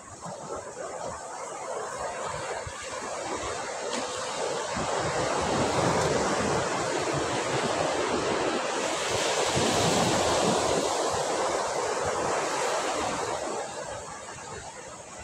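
Ocean surf at Sagareshwar Beach, Vengurla, on the Konkan coast of Maharashtra at sunset, a broad continuous wash of waves that swells and eases, with wind buffeting the microphone and no talking.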